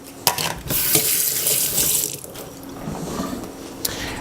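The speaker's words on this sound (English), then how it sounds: "let me just rinse my hands off here" Tap water runs steadily into a kitchen sink while hands are rinsed during muffin baking, a continuous close splashing hiss with a few brief clatters.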